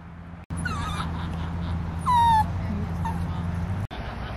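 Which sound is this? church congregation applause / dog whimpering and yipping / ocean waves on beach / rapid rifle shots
dog whimpering and yipping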